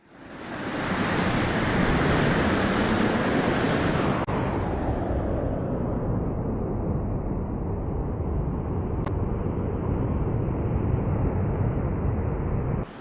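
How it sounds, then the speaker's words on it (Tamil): A strong whirlwind blows across the Velliangiri hills, a loud, continuous roaring rush of wind buffeting the microphone. It swells in at the start and then holds steady with little variation. "வெள்ளையங்கிரி மலையில் சுழல் காற்று ஏற்பட்டிருக்குங்க"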